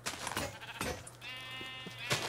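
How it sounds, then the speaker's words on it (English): A sheep in the Minecraft video game bleats several times in short wavering calls, clear and close against a quiet game background. "Hey, lonely sheep."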